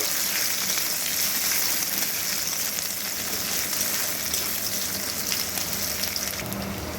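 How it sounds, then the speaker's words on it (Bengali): Chopped onion fries with garlic in a pan of hot oil, a dense continuous crackling sizzle held close and steady throughout with no voices. "এর মধ্যেই দিয়ে দিচ্ছি পেঁয়াজ কুচি খুব ভালো করে এর সঙ্গে ভেজে নেব"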